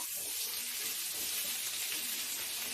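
Vegetables (data stalks, potato, eggplant) sizzling in oil in a pan for bata fish curry, a steady loud hiss with no pauses.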